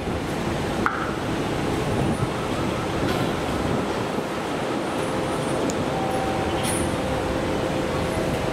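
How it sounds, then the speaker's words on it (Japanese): A JR Kyushu local train arrives at Miyazaki Station, a steady loud rumble of rolling wheels and station ambience with faint squeals and a thin high tone. "普通列車が到着いたします"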